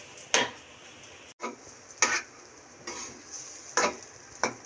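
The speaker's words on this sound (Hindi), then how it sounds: "एक 2 मिनट के लिए हम इसे इस तरह फ्राई करेंगे" Rice fries quietly in desi ghee with a faint sizzle, broken by a few spaced spoon scrapes and light clinks against the pan.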